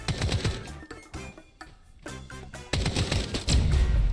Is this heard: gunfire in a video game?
yes